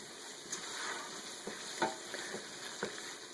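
Onions cooking down for chili give a soft, steady sizzle in the pan, broken by a few sharp spoon clinks and scrapes as they are stirred. The sound is fairly quiet, close up, and has no voices over it.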